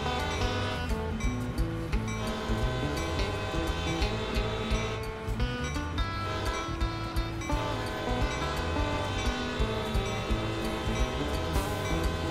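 A CSX freight train in Train Sim World 2 starts moving downhill with a continuous low diesel drone and rumbling wheels. Layered tonal engine hum and rhythmic rail clatter stay loud and steady throughout.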